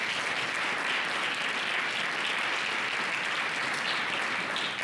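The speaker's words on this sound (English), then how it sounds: "Let's give that a round of applause." An audience at a youth resilience summit in North Carolina applauds steadily, dense continuous clapping filling the room at full loudness from start to finish.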